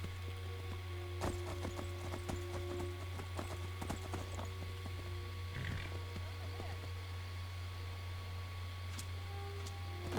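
Quick hoofbeat clip-clops from a running horse in Skyrim, a rapid uneven patter over a low steady hum, fairly quiet with no one speaking.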